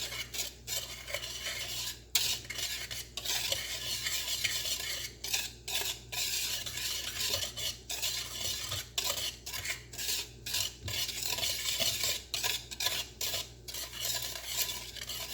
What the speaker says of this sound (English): we're just going to go ahead and use a whisk to blend these up